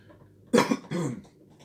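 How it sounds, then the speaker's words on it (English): Two quick, close coughs after drinking coffee, one sharp and then a slightly longer, rougher one, with quiet room noise before and after. "Don't worry, it's a coffee cough, not a COVID cough."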